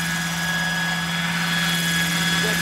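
A helicopter's rotor and turbine drone on steadily and loudly with a constant whine, close by, with no voices.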